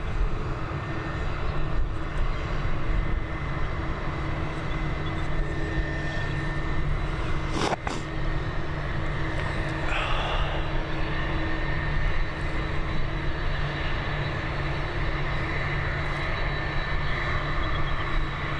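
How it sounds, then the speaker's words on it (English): A steady, loud roar from the engines of an Airbus A321 jet at Dublin Airport, continuous broadband rumble and whine throughout with one brief sharp click partway. "We're heading over to Frankfurt with this A321."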